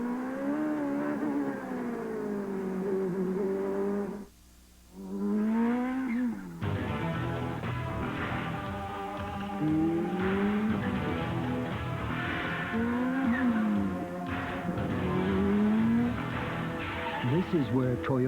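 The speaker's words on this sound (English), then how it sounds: "Michael may close right down on the back of Mario's car, and once again, we will have a battle for the lead" Open-wheel CART race cars from 1990 at the Mid-Ohio Sports Car Course, dueling for the lead: engines whine steadily and sweep up and down in pitch as they pass, with a race commentator talking over them throughout.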